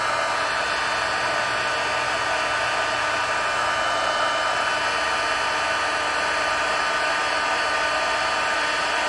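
A heat tool for embossing a card runs continuously at close range, a steady loud fan whoosh and hiss like a hair dryer, unchanging throughout.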